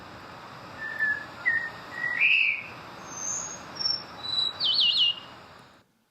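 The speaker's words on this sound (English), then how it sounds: "The Taiwan whistling thrush, also a bird I heard, which is very hard to see." A Taiwan whistling thrush sings a series of short, high, clear whistled notes, ending in a wavering trill, rising in pitch. The song sounds fairly close against a quiet outdoor background.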